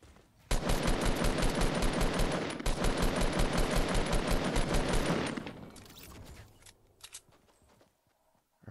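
Rapid bursts of SCAR assault rifle fire in Fortnite Battle Royale, a long steady automatic stream of close, loud shots that stops abruptly and leaves a few scattered fainter shots and clatter.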